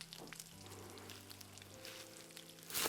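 Food frying gently in a sauté pan in a home kitchen, a quiet, steady sizzle with faint crackles throughout, set under soft tonal background sounds and no talking.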